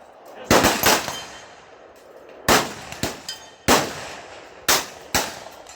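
Shots from a .243 Winchester rifle at a Game Commission shooting range: around eight loud, sharp reports in irregular clusters, each ringing out with a short echoing decay, and no talking.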